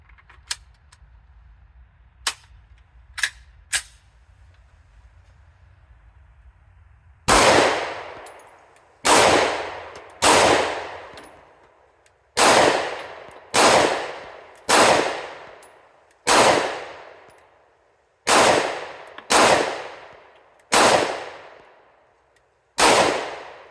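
A 10mm S&W M&P pistol fires CCI Blazer 200 grain rounds in about thirteen loud, sharp shots at irregular intervals. Each report rings out and decays, and a few small metallic clicks come before the shooting begins.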